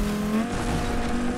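A motorbike engine in the video game Fortnite drones steadily and loudly for a moment, holding a continuous buzzing tone with slight pitch shifts.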